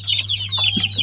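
Native chickens cluck in soft, rapid bursts over a steady low hum, close and fairly loud across about a second, with young chicks present on the farm.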